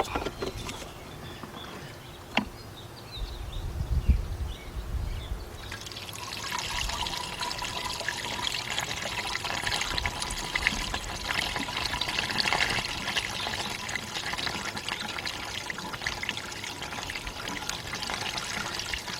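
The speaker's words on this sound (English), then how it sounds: "we got a little funnel here. Put that up there." Liquid trickles and pours through a small funnel while a GM truck or SUV's air-conditioning system is refilled after a compressor replacement; a steady, close hiss of flow runs continuously through the second half.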